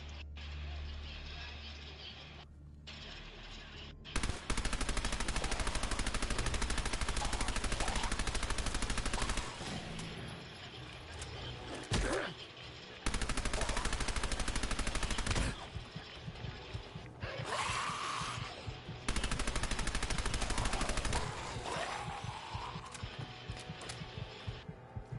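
Gunfire in the video game Fallout 4: loud bursts of rapid automatic shots in several long volleys separated by short pauses, with a low rumble beneath and no talk.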